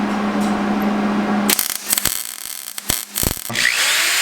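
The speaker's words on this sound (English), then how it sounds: "all we have to do is drill some holes in this to mount our ammo boxes" A power drill bores holes in metal for a lifted 420cc off-road go kart, a steady whining run followed by short bursts, clatters and scraping of parts nearby.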